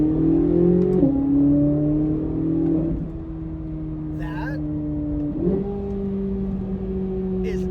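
A Corvette C8 Z06 with a 5.5-liter flat-plane crank V8 drones steadily under cabin talk, its pitch climbing and shifting through several gear changes as the car accelerates, loud and continuous from inside.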